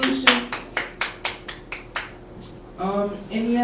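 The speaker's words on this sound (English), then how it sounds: "Give our hand clap praise for that question and solution." A few sharp hand claps or snaps in a quick, slightly uneven series of about eight, close and distinct, followed by a brief hum-like tone at the end.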